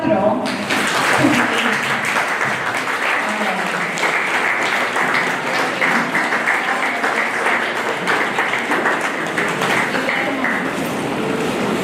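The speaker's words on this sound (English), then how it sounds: "Let us all give them a big round of applause for their incredible achievement" Audience at a school felicitation ceremony for ICSE and ISC toppers claps steadily, a dense sustained round of applause with voices murmuring underneath.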